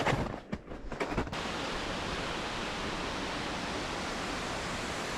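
A waterfall, the Ratera falls in the snowy Aigüestortes mountains in winter, roars as a steady, dense wash of sound that fills the clip after a brief burst of rustling and handling noise at the start.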